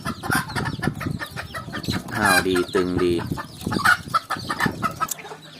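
Hens and young pullets cluck close by, including a recovering bird treated with eye drops, a few short calls rising over someone talking throughout.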